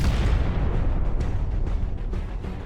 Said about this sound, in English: the second hits shortly after, triggering a massive explosion that completely destroys the Russian tank